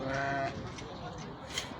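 Sakız lambs, males and females together, bleat at the Torbalı animal market in İzmir. A clear, wavering bleat opens the sound, then market bustle and nearby voices follow.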